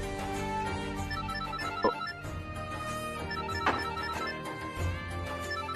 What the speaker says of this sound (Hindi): कॉल लेना पड़ेगा।